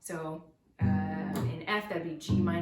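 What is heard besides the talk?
No everyday noises stand out.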